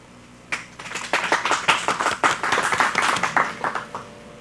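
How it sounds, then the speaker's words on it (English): An audience applauds a performer at a school assembly, with many hands clapping in a steady, fairly loud burst that starts abruptly and continues for about four seconds without talk. "Please give a round of applause to Christina Pagan as she recites some excer"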